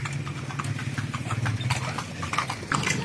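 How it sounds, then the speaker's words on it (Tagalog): A privately owned carriage horse trotting through the streets of Vigan City, steady rapid clip-clop of hooves on pavement, close and continuous, with a faint engine hum behind. "Sarili niyo pong kabayo ito."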